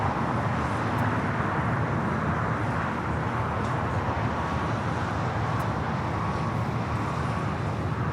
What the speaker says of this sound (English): Now we have American Airlines Flight 27 cleared for takeoff. 787-9 Dreamliner headed out to Tokyo